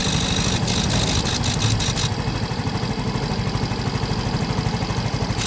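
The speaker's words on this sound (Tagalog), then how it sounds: "maganda pa naman ang andar ng makina." A Yamaha Mio Gear 125 scooter engine runs loud and close, a steady rapid idle pulse with a rattly mechanical texture being checked during troubleshooting for a stalling fault.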